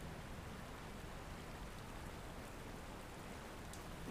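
Steady rain falls on a rainy day, a dense, even hiss of drops with no pauses, fairly soft and constant throughout, with no voices.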